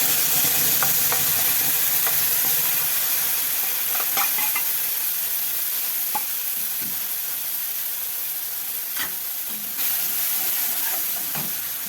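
Chutney being stirred into tempered yogurt in a pan for Kathiyawadi dahi tikhari, a steady sizzle and hiss throughout with faint spoon scrapes against the pan, close and continuous, no voices.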